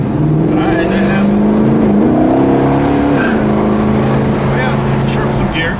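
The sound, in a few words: 426 Hemi 1969 Dodge Charger Daytona accelerating through gears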